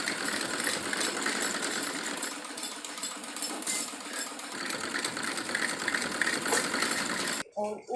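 A sewing machine stitches down the belt of a salwar, a steady close mechanical whirr running continuously before cutting off abruptly near the end.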